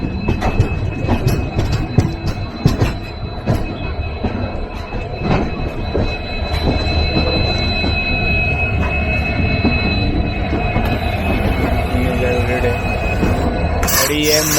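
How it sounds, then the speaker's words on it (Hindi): A train with a WDP 4 diesel locomotive at a station, heard as a loud, continuous rumble of rolling stock with clanks, wheel noise and a sustained high tonal whine, and a sharp burst near the end. "और यहाँ पे कोई ट्रेन खड़ी है WDP 40 लोकोमोटिव के साथ"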